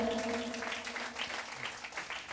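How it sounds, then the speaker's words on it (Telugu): A church congregation claps hands together in a soft, brisk patter of applause, somewhat distant, with a faint lingering tone beneath it. "ప్రియులారా చప్పట్లు కొట్టి దేవుణ్ణి స్తుతిద్దామా"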